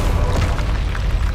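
A Bombarda blasting spell explodes in Hogwarts Legacy, a loud, deep rumbling boom that fills the whole brief moment with dense low-end roar and no talk over it.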